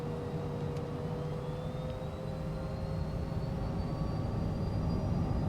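A Cessna Citation CJ4 business jet in a flight simulator rolls for a flap-zero takeoff, its engine noise a steady broadband roar with a slowly rising whine, building gradually louder over several seconds with no talk.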